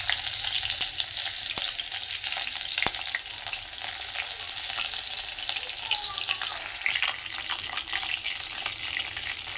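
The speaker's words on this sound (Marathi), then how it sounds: "आता हिरवी मिरची घालायची।" Green chillies frying in hot oil with cumin seeds, a dense, steady hiss and crackle filling the whole stretch with a few sharp pops, close and fairly loud with no talking.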